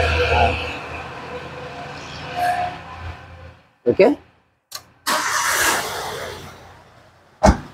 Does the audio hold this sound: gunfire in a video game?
no